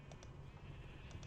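Sheep in a Minecraft-style video game bleat faintly in a few short, soft calls spaced across the moment, over a low steady background hum.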